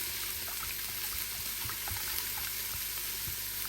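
Liquid pours into a 6-quart Instant Pot to deglaze it while making chicken stock, a soft, continuous trickle and hiss close by, alone and fairly quiet.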